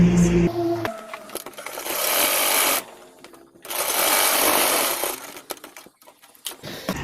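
Sewing machine running two long bursts of tacking stitches along a folded kurti slit hem, close and steady, each run stopping abruptly with brief quiet pauses and light handling clicks between.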